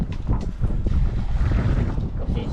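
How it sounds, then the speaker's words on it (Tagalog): Strong wind buffets the microphone outdoors at a house extension site, a loud continuous low rumble with gusty surges throughout. "Lakas ng hangin, ano?"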